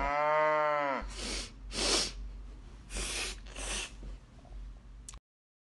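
Cattle low with a deep, drawn-out moo up close, followed by several loud breathy snorts and sneeze-like blasts, with no talking.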